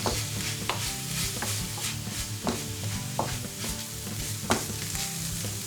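Curry powder and turmeric stirred in a hot pan for vegan curry rice give a loud, close sizzle with regular scraping and clinking spoon strokes against the metal, and no one speaks.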